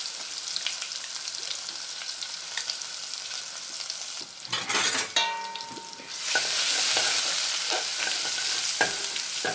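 Ginger and garlic sizzle in a hot pan for a curry, loud and close, with a spoon scraping and stirring through the middle and a bright steady fry after it.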